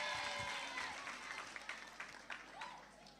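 Applause breaks out from an audience at a Kenya Red Cross gathering, a dense wash of clapping that fades gradually over a few seconds, heard at moderate distance.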